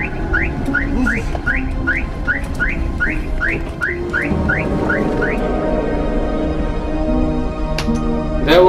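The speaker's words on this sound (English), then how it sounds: "There's an alarm going off." A car alarm sounds loudly through the first half in a fast run of rising whistle-like chirps, repeating about a dozen times, then gives way to steady tones while a person reacts in the background.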